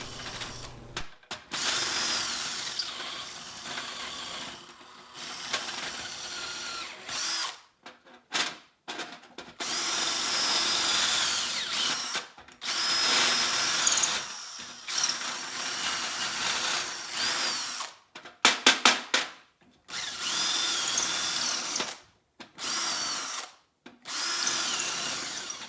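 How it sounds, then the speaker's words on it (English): A small drill bit wiggled around inside holes drilled in a wooden phone holder, giving loud bursts of grinding and whirring broken by short pauses, close and without talk. "you want to use a little drill bit and just wiggle it around"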